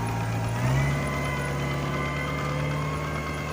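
A Kubota 70 tractor engine idles steadily while reversing on a farm, a continuous low diesel drone with a slight rise partway through, heard alone without talk.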